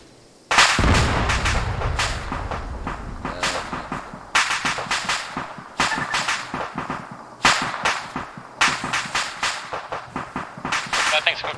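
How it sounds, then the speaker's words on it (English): Vehicles cooking off in a night assault in a Clone Wars video game, a speeder among them: a rapid, uneven run of loud sharp explosive cracks and bangs over about eleven seconds, with voices speaking at points. "there's cook-offs on the vehicles now"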